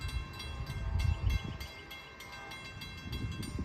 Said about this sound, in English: first up is a northbound CT rail train who is supposed to be here right now